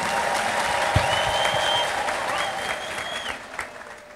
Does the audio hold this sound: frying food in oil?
no